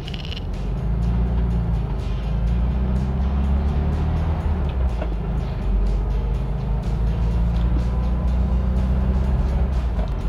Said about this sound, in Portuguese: vamos dar uma voltinha nesse Volkswagen Brasília 74